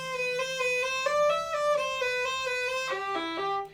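A bowed violin plays a Wohlfahrt Op. 45 etude, a smooth run of connected notes slurred in groups of eight with gentle string crossings, clear and alone.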